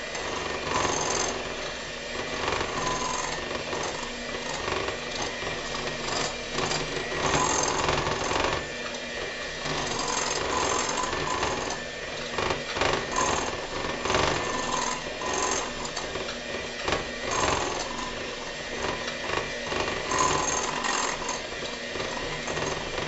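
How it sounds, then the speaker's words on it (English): An electric hand mixer creams 1 cup of sugar with a quarter cup of softened butter for a tomato soup cake, giving a steady, close buzzing whir with rattling, uneven texture that continues throughout. "we're just going to mix that together with our mixer"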